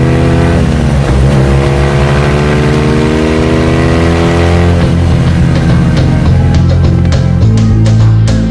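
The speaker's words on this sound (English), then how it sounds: "Tout au loin, Hubert Auriol et sa BMW. La moto numéro 100 fonce vers la victoire." A BMW rally motorcycle, number 100, races flat out across remote desert terrain, its engine a loud, steady, high-revving drone that holds close and unbroken throughout.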